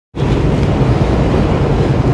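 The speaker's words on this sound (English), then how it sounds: "it's so windy in Cali right now. Ridiculous winds." Strong wind buffets the microphone on a walk back to a truck on Highway 58 in California, a loud, continuous low roar and rumble starting abruptly and holding steady throughout, with no voices.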